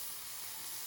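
Teriyaki chicken sizzles on a hot griddle set to high just after being flipped, a steady, dense hiss that fills the whole second at constant loudness with no voices.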